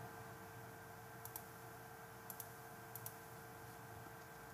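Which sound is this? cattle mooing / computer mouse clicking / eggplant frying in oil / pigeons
computer mouse clicking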